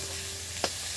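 Onion frying in a pan for ghugni: an even, close sizzle with a single quick utensil scrape partway through.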